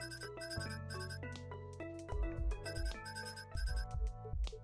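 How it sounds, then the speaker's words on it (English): A melodic electronic phone ringtone from the video game Coffee Talk Tokyo, bright chiming notes over a bass line, playing continuously and fairly quietly without any talk. "Awesome ringtone."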